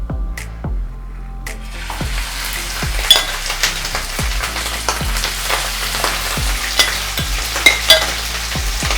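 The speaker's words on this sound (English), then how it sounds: "Once your oil is hot, put in your meat." Beef frying in hot oil for a leek beef stew, a continuous crackling sizzle punctuated by regular sharp clinks and scrapes of a utensil against the pan, close and fairly loud.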